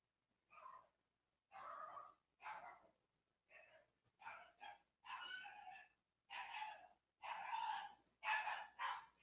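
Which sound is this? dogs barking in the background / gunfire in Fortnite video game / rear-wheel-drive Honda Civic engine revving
dogs barking in the background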